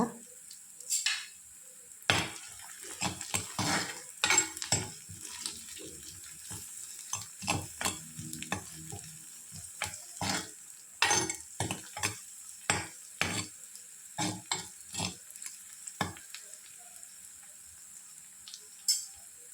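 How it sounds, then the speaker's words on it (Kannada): Crushed garlic frying in a pan for Kerala-style fish curry: a soft sizzle under repeated close, scraping stirring strokes in irregular bursts, with a few pauses. "ಇದು ಸ್ವಲ್ಪ ಫ್ರೈ ಆಗುವಾಗ ಇದಕ್ಕೆ 4 ಬೆಳ್ಳುಳ್ಳಿ ಜಜ್ಜಿ ಹಾಕೋದು"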